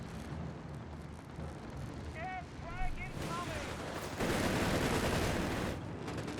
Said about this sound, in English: There we go, strafing one out of the US Air Force here.